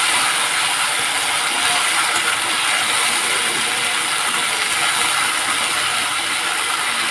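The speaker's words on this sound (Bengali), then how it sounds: "পেঁয়াজ রসুন আদা তারপরে টমেটো পেস্ট সব আমি একসাথে মিক্স করে পেস্ট করছি" Kitchen grinder blending onion, garlic, ginger and tomato into a paste, a loud, steady whirring, grinding mechanical noise that runs unbroken without any voices.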